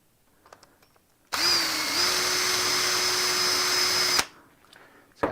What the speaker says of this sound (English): I got to drill those out a little bit more.